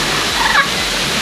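A parrot at a nature park gives short squawking calls, heard faintly under a loud, steady rush of background water noise.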